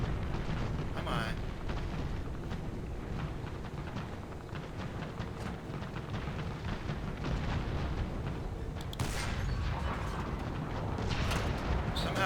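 German tank cannon fire in the War Thunder video game booms amid rumbling engine and battle noise, with a few sharper blasts standing out over a continuous low roar.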